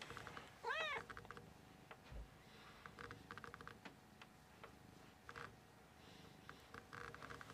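A pet cat gives a single clear meow early on, near and distinct, then small ticking and pattering sounds follow in a quiet indoor room with only faint voices.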